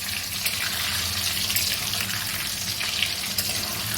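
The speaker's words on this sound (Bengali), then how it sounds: "ওই তেলের মধ্যেই আমি আলুগুলো ভেজে নেব।" Salted boiled potatoes fry in oil and butter, making a dense continuous hiss of sizzling that stays even and fairly loud throughout, with no speech.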